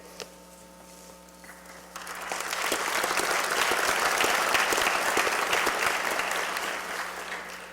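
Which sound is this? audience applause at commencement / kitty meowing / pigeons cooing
audience applause at commencement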